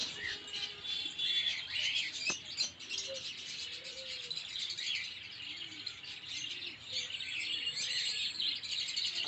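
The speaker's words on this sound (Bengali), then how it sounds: "দেখেন প্রত্যেকটা পাখি আপনার টেম বার্ড" Tame cockatiels at Katabon bird market in Dhaka chirp and tweet in quick, overlapping bursts, fairly close, with soft background bustle and no speech.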